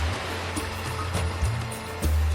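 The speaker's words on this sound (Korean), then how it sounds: "이 빙하가 녹아가지고 이렇게 정말 엄청난 물들이 흘러내리고 있는데요" Glacial meltwater in Iceland rushing down from a melting glacier toward large waterfalls, a steady broadband roar with strong low rumble, loud and continuous with surges, no voices.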